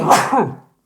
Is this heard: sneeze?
yes